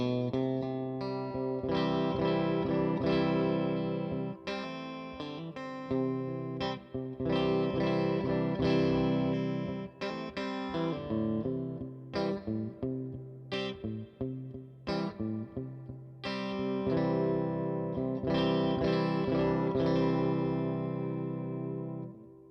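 Electric guitar played through a Tone King Falcon Grande amplifier with a mostly clean tone, strummed chords and picked notes ringing out steadily, with a touch of effect shimmer.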